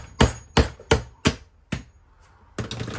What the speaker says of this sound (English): I'm going to grab my hammer, and we're just going to give some light taps